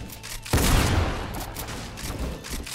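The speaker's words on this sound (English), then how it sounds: "Another shotgun miss." A single heavy shotgun blast in a video game, one loud boom with a booming tail that fades slowly, followed by another faint shot at the very end.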